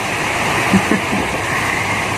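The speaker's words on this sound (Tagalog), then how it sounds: "narinig nyo guys yung pagaspas ng mga alon" Ocean waves wash on a beach before dawn, heard from inside a car parked at the shore as a steady, loud, broadband rushing wash with faint voices briefly underneath.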